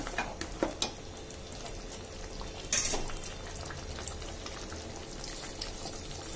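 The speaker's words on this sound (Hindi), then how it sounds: "अब इसे अच्छे से उबाल आ चुका है।" Crab masala curry gravy bubbling in a pot after hot water is added, a continuous close simmering bubble and hiss with occasional louder pops.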